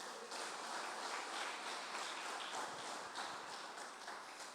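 A church congregation claps for the Lord during a sermon, with steady rhythmic hand claps that sound faint and distant and carry no voices over them.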